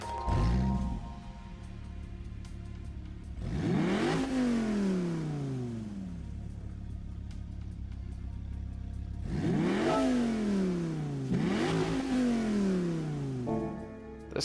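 A Dodge Viper GTS in a racing video game revs hard on track, its engine climbing through gears in repeated rising sweeps with sharp shifts, loud and close, with no talk.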